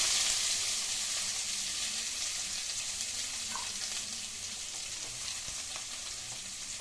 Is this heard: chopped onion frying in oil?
yes